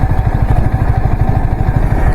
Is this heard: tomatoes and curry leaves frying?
no